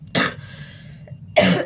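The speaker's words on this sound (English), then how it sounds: "I apologize for my coughing." A woman coughs twice up close, two sharp harsh bursts separated by a short pause, loud and with no talking over them.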